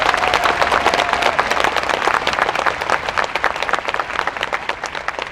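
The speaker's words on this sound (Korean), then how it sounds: "세월호 유가족분들 아이들에게도 여러분 하늘까지 들릴 수 있도록 여러분 박수 한번 부탁드리겠습니다" An audience gives a sustained round of applause for the Sewol ferry victims' families, thick and loud at first with many overlapping claps, then thinning into sparser separate claps toward the end, with no talking.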